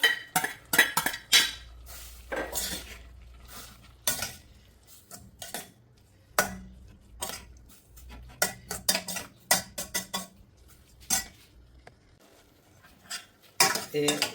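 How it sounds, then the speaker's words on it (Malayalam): A spoon scrapes and clinks against a pan while spiced coconut paste of turmeric, cumin and curry leaves is stirred into drumstick and potato pieces for Kerala-style aviyal, in irregular bursts of clatter separated by short pauses. "ഈ അരപ്പും ഈ കഷ്ണങ്ങളും ഒന്ന് നല്ലവണ്ണം ഒന്ന് യോജിപ്പിച്ചെടുത്തതിന് ശേഷം"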